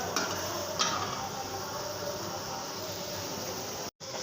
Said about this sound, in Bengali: এখন আমি মাছটি দিয়ে কষিয়ে নেব।